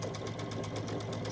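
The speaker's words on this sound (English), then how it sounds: "sewing it 1/4 inch on the other side of this block" A sewing machine runs steadily and up close with a fast, even rhythmic whir while chain piecing a quilt block at a quarter-inch seam, with no pauses.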